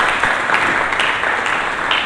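A church congregation applauds during a sermon, a steady dense wash of clapping that stays loud and even throughout, with no speech.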